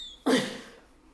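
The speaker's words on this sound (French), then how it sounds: "j'ai envie d'éternuer" A single sharp sneeze bursts out suddenly, loud and close, then trails off into a soft breathy tail with no talking around it.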